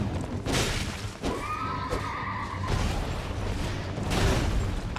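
Horse in a video game boss fight neighing loudly in a long, shrill whinny, with clattering game effects and a booming backdrop around it.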